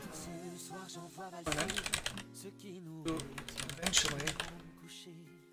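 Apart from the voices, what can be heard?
typing on a computer keyboard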